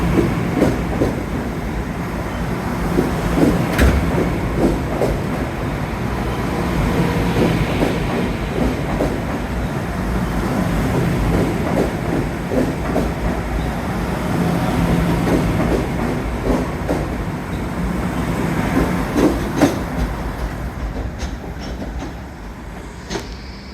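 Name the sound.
subway train riding on rails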